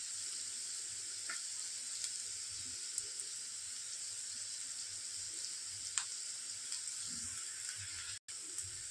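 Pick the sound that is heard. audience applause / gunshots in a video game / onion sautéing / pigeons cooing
onion sautéing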